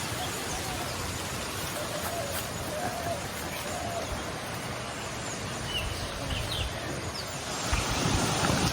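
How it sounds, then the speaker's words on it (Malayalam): Strong wind blows across a farm in Sethumada planted with mango varieties and coconut palms, a constant broadband rush with no pauses that grows slightly louder toward the end, with no voices. "കാറ്റ് ആണ് സൂപ്പർ."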